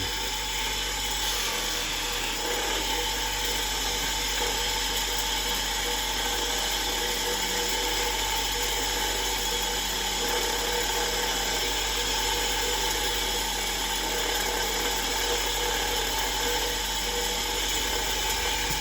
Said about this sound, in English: I'm just polishing the dirt away.